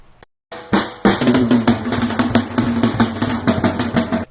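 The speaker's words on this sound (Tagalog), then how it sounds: "Ito ang tunog ng tambol." A drum beaten in a fast, loud, irregular run of hits after a brief silent gap, the strikes close and dense, with no talking.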